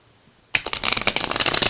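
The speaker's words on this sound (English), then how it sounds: "Last shuffle." A deck of tarot cards is riffled in one quick shuffle, a sudden start followed by a fast, close, crisp run of flicking card edges lasting about a second, with no talking.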